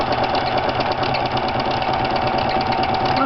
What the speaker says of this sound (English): this is going to start cutting before it starts sewing like a regular serger